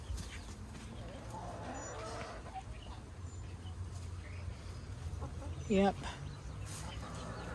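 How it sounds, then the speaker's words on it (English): Young chicks and larger chickens in a coop, with soft scattered clucks and chirps over a low background hum, one louder nearby call, and a brief spoken word. "These are the chicks that Linda gave me, and they are growing nicely"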